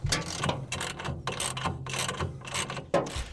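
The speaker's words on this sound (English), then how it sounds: "Now it's time to tighten your crossmember brackets." A ratchet cranks down tonneau cover crossmember brackets on a Ford F150 bed, a series of quick, close clicking bursts repeating in an even rhythm with brief pauses between strokes.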